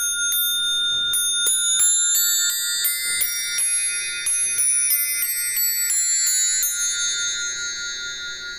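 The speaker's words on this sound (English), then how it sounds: "If you hit each bell, it makes a different sound." A discordant bell scale struck one bell at a time, bright metallic tones ringing out in a quick irregular sequence with overlapping decays that fade together toward the end.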